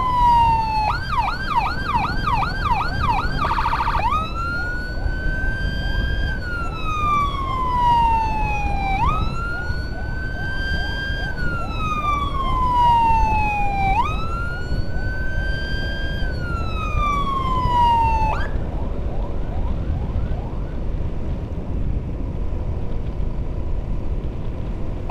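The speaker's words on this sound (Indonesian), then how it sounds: "ambulan" An ambulance siren wails nearby, first in a rapid yelp, then in long rising-and-falling sweeps that repeat several times before cutting off.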